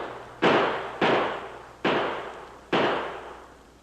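Four sharp gunshots from a posse in a 1942 radio drama sound effect, evenly spaced and loud, each with a reverberant decay. No voices.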